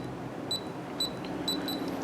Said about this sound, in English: You'll see the red light will stay on after giving you the double beep again.